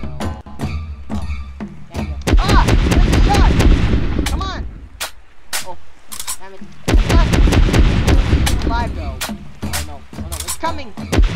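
Rapid bursts of gunfire in the Roblox SharkBite video game ring out in clustered volleys with short pauses between them, loud and close, while excited voices shout over the shooting.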